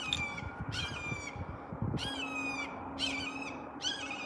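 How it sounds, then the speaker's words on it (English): A bird up in the trees near a creek squawks angrily in repeated harsh bursts, about five loud calls spaced roughly a second apart over steady outdoor background noise. "There's a bird up there going crazy."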